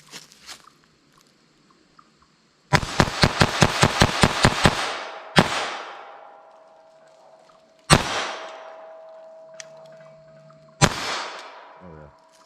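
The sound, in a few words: pistol firing Remington Yellow Jacket .22 LR rounds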